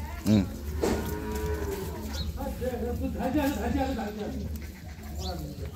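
A dairy cow moos loudly nearby in a village courtyard cattle sale, with more lowing calls following under busy background noise and people talking.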